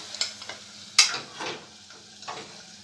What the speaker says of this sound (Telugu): మనం కొద్దిగా నీళ్ళు వేసుకొని మనం ఇందులో ఇందులో వేసుకోవాలి వేసుకున్న తర్వాత చూడండి బాగా ఇలా కలిపేసుకోవాలి